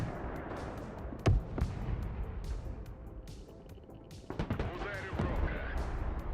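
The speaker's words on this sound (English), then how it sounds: "Where's that artillery firing at?" Artillery fire in the strategy game Broken Arrow, with sharp booms at about 1.3 and 1.6 seconds and a cluster of distant thuds later, set against a constant rumble of battle and spoken voices.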